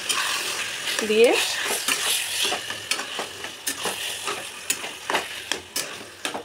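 Taro leaves (kochu shak) fry in a pan with turmeric while being stirred, giving a steady sizzle with repeated scraping strokes of the spoon, close and clear, with a brief spoken word near the start.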